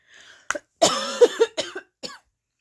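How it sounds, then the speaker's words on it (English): A burst of several harsh coughs in quick succession, close and fairly loud, with short pauses between them. "I'm trying not to like cough all over everything"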